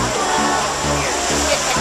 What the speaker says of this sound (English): there's that waterfall thing again.